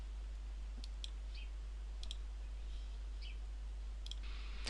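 Several light, crisp computer mouse button clicks sound singly and in quick pairs over a steady low hum in a quiet room.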